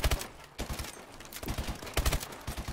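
Gunfire in the video game Advanced Warfare: rapid bursts of shots crackle in clusters across the stretch, fairly faint and alone with no talk over them.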